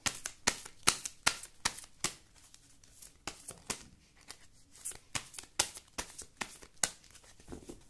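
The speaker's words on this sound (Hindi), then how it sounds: "मैं जब तक शफल कर रही हूँ कार्ड्स" Tarot cards shuffled by hand in quick, crisp riffling bursts, close and clear, repeating steadily with no talk.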